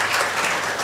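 An audience at a Brahma Kumaris spiritual talk claps in a dense, steady wash of applause, fairly loud and continuous throughout, with no speech over it.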